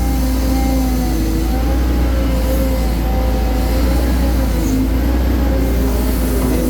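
A Caterpillar 320D2 GC excavator's four-cylinder diesel engine runs steadily at a loud, constant drone with a continuous low rumble and whine, close up and alone, during reservoir dredging work.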